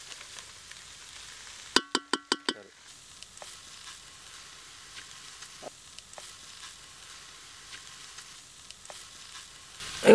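Goat blood fry with garam masala stirred in a pan, a quick run of sharp clanks from the spoon against the pan and then a steady, soft sizzle with occasional light scrapes and taps.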